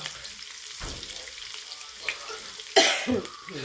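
A short cough bursts out over the steady sizzle of chicken frying in a pan, followed by a second rougher cough or throat clearing.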